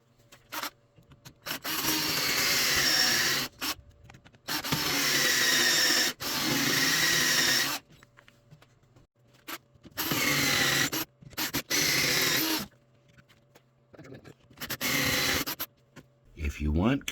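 Wooden pen blanks with brass tubes installed having their ends milled, a power tool grinding in several bursts of a second or two separated by quiet gaps, close and fairly loud.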